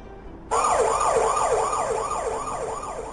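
Emergency-vehicle siren used to demonstrate the Doppler effect as the source moves away. It cuts in suddenly and wails in quick, regular cycles, loud at first and then slowly fading, with no talking.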